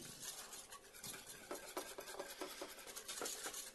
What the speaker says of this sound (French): on mélange vraiment jusqu'à ce que le chocolat